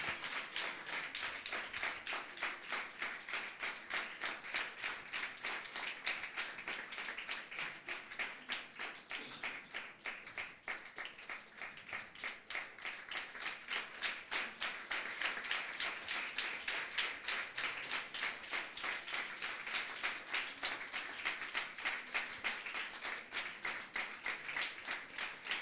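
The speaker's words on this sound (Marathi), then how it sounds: "वाजवा वाजवा, टाळ्या वाजवा." A church congregation clapping hands in steady, fast unison rhythm, a dense continuous wash of claps that holds evenly throughout, moderately distant and without voices standing out.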